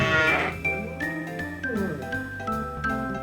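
Goats bleat at a petting zoo near an RV park, several wavering, nasal cries in quick succession, close by and fairly loud, with faint jingling in the background.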